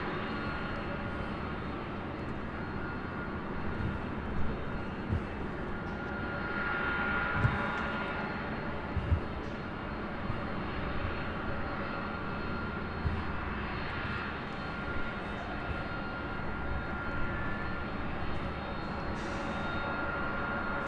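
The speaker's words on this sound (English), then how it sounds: "It's flight 457 heading back to Frankfurt and that's 747-8 Intercontinental." A Lufthansa Boeing 747-8 Intercontinental jet taxiing at LAX, bound for Frankfurt, a low continuous engine rumble and hum at moderate distance with a few faint bumps, no talk over it.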